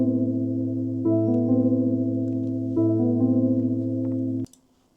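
A layered synth melody from a Scorch plugin preset plays simple sustained chord-like notes that shift twice, clean and steady at moderate level, before cutting off abruptly into near silence.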